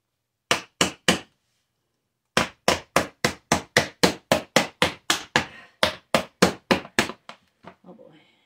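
A hammer strikes hard in a quick run of loud, sharp blows: three hits, a short pause, then a long steady series that fades into lighter taps at the end.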